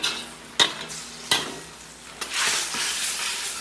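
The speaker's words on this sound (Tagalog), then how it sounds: "haluin natin." Beef intestine adobo being stirred in a pan, with a quiet sizzle broken by three distinct utensil scrapes or knocks, then a louder, fuller frying hiss toward the end; no speech.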